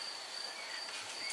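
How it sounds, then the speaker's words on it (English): Crickets chirping steadily in a quiet night setting, a thin continuous high trill running throughout at a faint, distant level with no other sounds. "Crickets."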